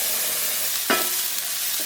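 Chopped onions sizzle in a splodge of hot oil for a budget curry, a steady crackling fry with one brief louder burst of stirring partway through.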